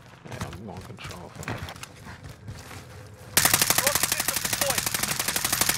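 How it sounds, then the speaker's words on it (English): Rapid automatic gunfire in the video game Warzone on Rebirth Island, likely the Vargo, breaks out loud and sustained after a stretch of quieter game sounds and muffled voices. "they don't move when I shoot them"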